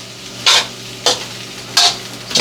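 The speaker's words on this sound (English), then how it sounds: "I get in the habit of scraping underneath the rice" A utensil scrapes and stirs Filipino fried rice in a hot pan, giving three or four crisp scraping strokes over a steady close sizzle of frying.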